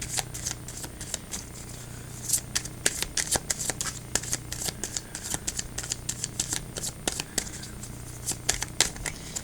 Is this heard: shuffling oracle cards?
yes